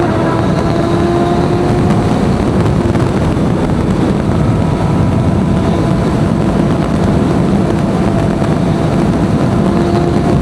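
A Kawasaki ZX6R sports bike engine running loud and close, a steady, dense roar with a constant drone throughout and no pause.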